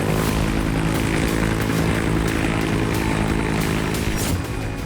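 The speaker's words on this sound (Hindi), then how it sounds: "लाल सागर में इजरायली वायुसेना के हेलीकॉप्टर गश्त लगा रहे हैं।" Israeli Air Force helicopters on patrol over the Red Sea give a loud, steady rotor and engine drone that holds without a break for the whole stretch.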